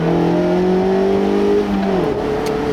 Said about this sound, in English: You hear a lot of induction growl.